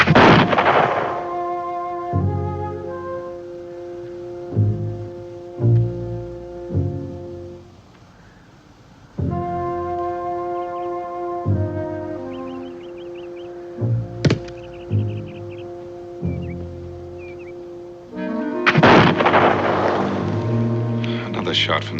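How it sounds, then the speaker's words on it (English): Sharp gunshots ring out from a gun in a TV western, loud bursts cutting through orchestral score, with dialogue between the shots. "Another shot from the Enchanted gun."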